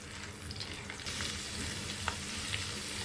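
Mustard oil with garlic paste heating in a pan for a chili pickle, a soft continuous sizzle with faint crackles and a slight rise in intensity partway through.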